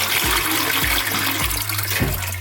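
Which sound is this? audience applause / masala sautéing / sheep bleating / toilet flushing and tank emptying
toilet flushing and tank emptying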